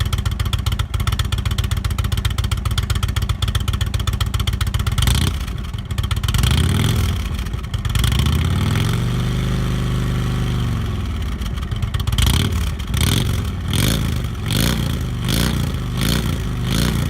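An Indian motorcycle fitted with Thunderworks 111 slash-cut, nearly straight exhaust pipes with small baffles runs at a loud, close idle, then revs up and down several times in deep throaty sweeps, with no talking.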